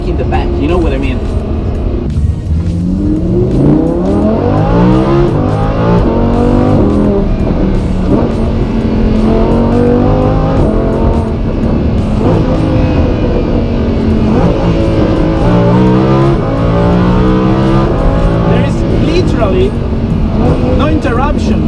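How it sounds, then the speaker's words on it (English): A Lamborghini Huracan V10 revving hard and accelerating through quick gear changes, loud rising engine howls that drop at each shift and climb again, heard from inside the cockpit with talking over it. "hear this V10 scream"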